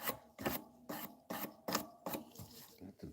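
A knife blade is rubbed by hand against 1200 grit abrasive, giving about six close, rhythmic rasping strokes with brief pauses between them and no talking.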